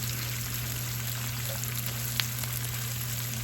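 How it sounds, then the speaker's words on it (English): Onions fry in a pan, a low, even sizzle held steady beneath a constant background hum, with a single faint pop partway through and no talking. "I will fry the onion until they are light brown"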